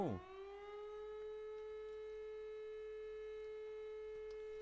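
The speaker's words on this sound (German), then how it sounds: "Sirene funktioniert auch." A civil defense siren on a fire station in Landwirtschafts Simulator 2013 gives a steady, sustained tone with a brief rising wind-up at the start, holding one pitch loudly throughout with no voices.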